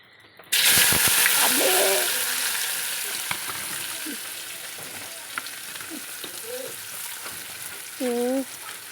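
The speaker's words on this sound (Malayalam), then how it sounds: "എണ്ണയൊക്കെ കാഞ്ഞു വന്നിട്ടുണ്ട് കേട്ടോ അപ്പം നമുക്ക് അതിലേക്ക് ഇനി ഇത് ഫുള്ള് അങ്ങോട്ട് കൊട്ടാട്ടോ" Ingredients hit hot oil with a sudden loud sizzle that settles into steady frying hiss, with occasional stirring scrapes and a voice speaking briefly in the background.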